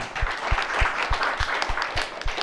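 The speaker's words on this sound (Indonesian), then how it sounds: "Tepuk tangan untuk Makan Bang." A small group claps steadily and evenly, about eight clear beats with scattered lighter claps mixed in, fairly close.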